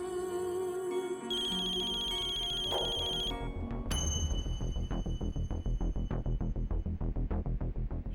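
A mobile phone ringtone plays loudly: bright, chiming melodic tones at first, then a repeating rhythmic beat pattern that continues steadily to the end.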